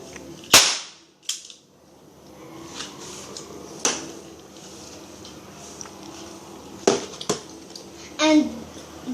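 Airsoft Glock 15 pistol firing a handful of sharp, separate cracks spaced seconds apart, close by, with people talking quietly between shots.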